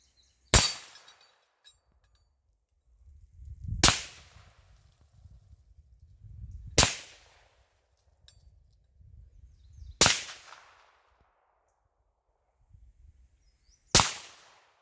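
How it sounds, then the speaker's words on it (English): Five suppressed Marlin Dark 336 30-30 lever-action rifle shots are heard from downrange, each a sharp crack followed by a low rumbling tail, spaced roughly three seconds apart, some hitting dirt and some steel. "Let's see what this 30-30 sounds like if you were a game animal."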